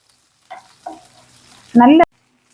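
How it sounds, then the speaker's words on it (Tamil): Shallots, curry leaves and dried red chillies sauté in a pan for Siruvani chicken, giving a loud burst of sizzling frying near the end after a few faint stirring clinks. "வெங்காயம் கருவேப்பிலை வரமிளகாய்லாம் நல்லா வதங்கிருச்சு."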